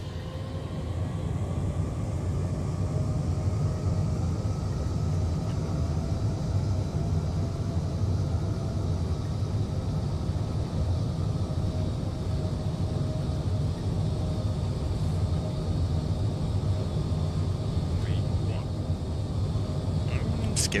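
Boeing 787-10 engines spool up to takeoff thrust in Microsoft Flight Simulator 2020, a steady, loud, broadband roar with a low rumble that holds evenly throughout, someone talking faintly over it.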